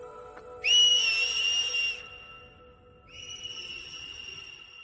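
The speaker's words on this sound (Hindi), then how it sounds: "जल्दी सीटी बजाओ।" A whistle is blown as an emergency signal: one long shrill blast, a short gap, then a second steady, slightly lower blast over faint background hiss.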